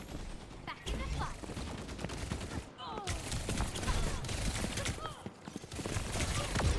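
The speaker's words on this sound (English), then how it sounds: "Explosions." Dense explosions and rapid gunfire-like blasts in the video game Overwatch, a loud, continuous barrage with a brief lull partway through, and a voice talking over the action.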